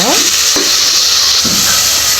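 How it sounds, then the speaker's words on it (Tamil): Onions, tomatoes and green chilies fry in a pan for mutton biryani, making a loud, steady sizzle with a few stirring scrapes. The sound carries on throughout without a break. "இதையும் நல்லா ஃப்ரை பண்ணுங்க"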